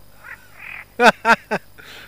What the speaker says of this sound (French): Même la grenouille elle se fout de toi.